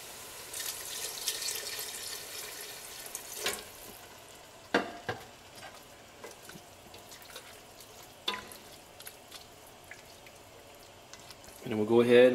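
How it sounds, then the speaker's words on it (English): Water pours into a cooking pot with a steady rushing splash, followed by scattered clinks and knocks of kitchenware, then a louder burst at the end. "let's just go ahead and we'll put some water in here"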